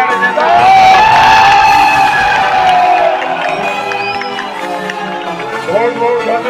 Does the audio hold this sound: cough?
no